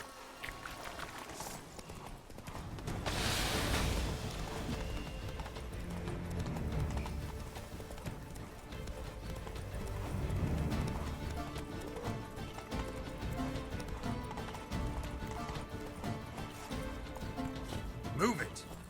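Horse galloping in the video game The Witcher 3: Blood and Wine, a steady run of hoofbeats with occasional swells, with someone talking over it at times.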